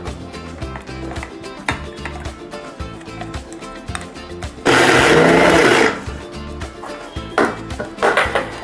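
Mixer grinder jar whirring and rattling as it grinds rice into a fine paste, rhythmic churning with a loud sustained high-speed roar midway, then intermittent bursts.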